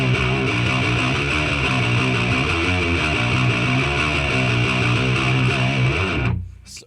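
A fast, driving two-step band passage with distorted guitars and steady bass and drums, loud and dense, cutting off abruptly near the end.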